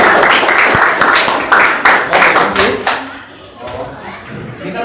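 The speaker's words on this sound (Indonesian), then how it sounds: "Kita beri aplaus." Classroom applause: a short round of clapping from students, loud at first and then quickly dying away.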